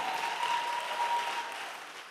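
An audience at a conference applauds a pastor being welcomed to the podium, producing a soft, steady patter of clapping that fades slightly toward the end.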